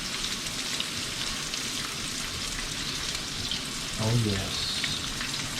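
Deer liver and buck heart fry in a pan with a dense, steady crackling sizzle, close and continuous, while a voice briefly speaks partway through.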